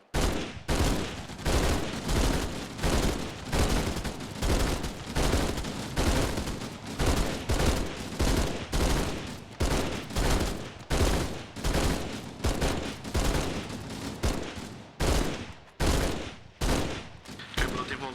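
Gunfire in the video game Halo during a team match, dense rapid bursts that repeat almost without pause and stay loud throughout, with no clear talk over them.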